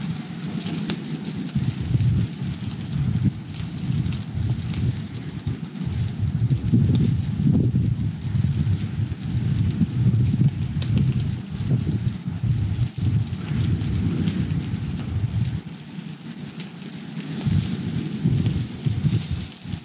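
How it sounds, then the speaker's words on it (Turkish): Strong wind buffets a seaside campsite at Akliman, Çanakkale, a continuous loud rushing roar with gusty swells and no talk. "Bayağı rüzgar var."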